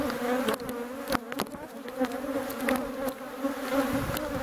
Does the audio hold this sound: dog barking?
no